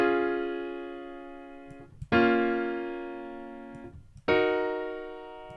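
Three sustained piano chords, each struck cleanly and left to ring and fade before the next, with no voices.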